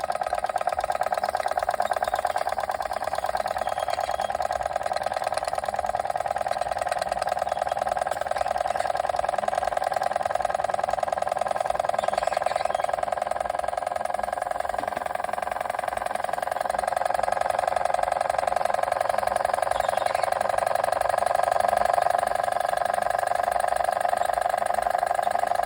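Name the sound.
Machinator Steamfire model steam engine running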